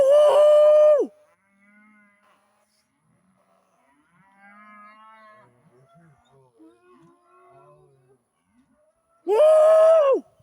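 Cattle on a farm let out two loud, long moos, one at the start and one at the end, with quieter shouting and movement in between.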